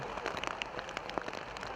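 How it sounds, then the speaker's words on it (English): Steady rain patters down outdoors at a U23 men's Canadian championship game in Kitchener, a dense close hiss of drops with scattered louder taps, no voices. "Obviously raining right now."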